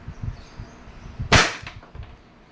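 A Wingun 702 airsoft revolver fires a single sharp, loud crack, standing out clearly after a few soft handling knocks and thumps.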